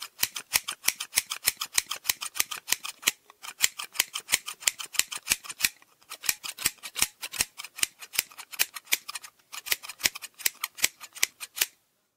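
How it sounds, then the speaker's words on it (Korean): Scissors snipping hair during a head-shaving haircut, crisp rhythmic close-up cuts in quick runs of sharp clicks separated by short pauses, heard alone without talk. "머리카락을 자르는 소리를 들을 때마다 서서히 사라져간다"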